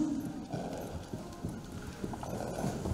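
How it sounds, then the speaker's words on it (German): Horse hooves clip-clop at a steady trot during a breed show, moderately distant and soft, with a brief whinny-like tone and faint voices in the background. "Trab ist jetzt hier heute mit Sicherheit die stärkste Gangart"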